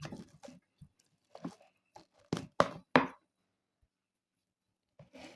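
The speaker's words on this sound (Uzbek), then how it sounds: "Yaxshilab ezib olamiz endi buni." Boiled potatoes are mashed with butter into a puree, giving a few soft, squelching, thudding presses in short bursts separated by silent pauses, close and quiet, with no talking.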